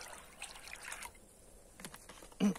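Liquid lye made from wood ash being poured out, a soft, faint trickle and dribble of liquid that thins midway, then ends in a brief louder splash.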